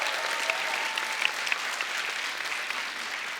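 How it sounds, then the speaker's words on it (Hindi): An audience at a comedy show applauds a guest with dense, steady clapping that fills the whole stretch, with a few sharper individual claps standing out near the front. "इनके लिए भी जोरदार तालियां।"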